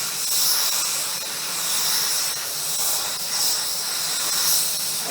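A spray gun lays a coat of Glasurit 90 line lacquer, giving a steady close hiss that swells and eases slightly with each pass, with no voices.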